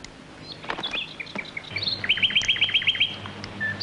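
Pet bird chirping and singing, with scattered tweets building into a quick run of repeated bright trill notes, moderately close over a low steady background hum.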